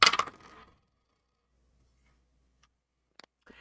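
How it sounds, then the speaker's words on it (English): Dice tumble across a table during a tabletop game: a short, loud rattling burst at the start, then near silence broken by a few faint clicks. "It's a 6 to hit Vika"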